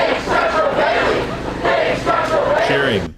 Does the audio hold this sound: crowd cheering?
yes